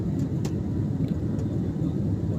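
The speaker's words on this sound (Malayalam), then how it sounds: "പറന്നുയർന്ന് അറബിക്കടലിന് മുകളിലേക്ക് വിമാനം പോകുന്നത്." Jet airliner noise heard from inside the cabin while climbing out over the Arabian Sea on a Mumbai to Kozhikode flight: a steady, loud, low engine rumble with a few faint clicks.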